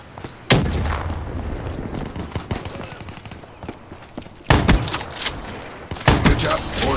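A shotgun blasts in Call of Duty Black Ops III multiplayer, sharp loud reports amid a busy rattle of other gunfire and impacts, with heavier bursts near the end.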